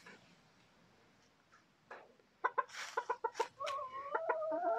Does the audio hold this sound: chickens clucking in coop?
yes